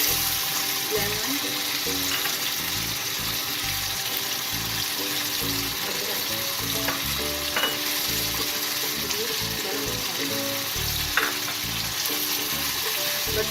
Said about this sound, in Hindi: ये सब चीज़ें डालकर तकरीबन 5 मिनट भून दें